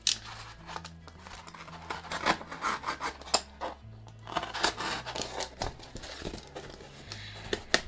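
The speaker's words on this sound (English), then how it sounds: "now I'm going to cut out a smallish hole for the flowers in the middle to be threaded through" A smallish hole is cut into a cardboard shipping box, producing a run of rough, rasping cuts and scraping strokes in uneven bursts, close and fairly clear, with no talking.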